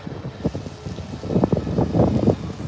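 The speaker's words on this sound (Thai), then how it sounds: "โอ้ลมแรงวันนี้" Strong wind in Blackpool, England, roars and buffets the microphone in loud, uneven gusts that swell toward the end, with no voices.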